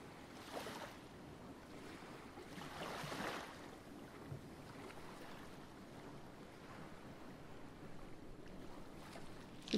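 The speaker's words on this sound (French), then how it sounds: "Le bruit des vagues." Ocean waves surge and wash in steady, rolling swells with a soft hiss of surf, fairly faint and unbroken, with no voices over them.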